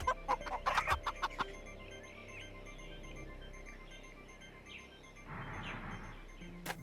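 Chickens cluck in a video game, a burst of sharp, close clucks and squawks at the start followed by quieter scattered clucking over a steady game background hum.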